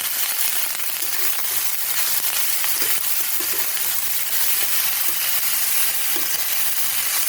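Broccoli with turmeric fries in a pan and is stirred, a steady close sizzle with light scraping and stirring taps throughout, no talk.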